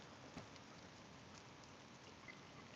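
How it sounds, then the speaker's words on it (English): Rain falling outside in Michigan, a faint, even hiss of drops on surfaces with a few soft ticks, steady throughout and no voices. "Now it's like raining."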